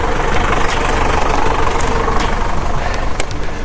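A tractor engine idles steadily at close range in a dark forest before dawn, a continuous low rumble running unbroken through the whole stretch with no one speaking.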